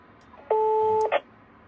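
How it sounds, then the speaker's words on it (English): A Command Alert 3 controller sends a 550 Hz channel marker tone for public safety radio: one steady, clean beep lasting about half a second, followed by a short burst of radio noise. "we have set up for a 550 hertz tone every 10 seconds for a half a second"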